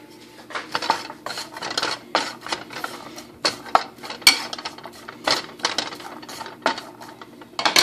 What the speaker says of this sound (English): I'm just going to take my spoon and mix them up so I kind of get the cinnamon on there